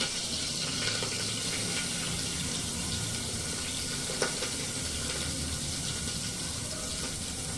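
Onion frying in a home kitchen pan with curry leaves, a steady broadband sizzle running the whole time with a faint brief tap near the middle; no one speaks.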